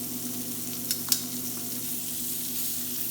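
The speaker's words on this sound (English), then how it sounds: "Now once I turn these over, it's going to be a very fast pickup." Scallops sear and sizzle steadily in a hot pan, a continuous close frying hiss with a couple of brief sharp clicks as they are turned over.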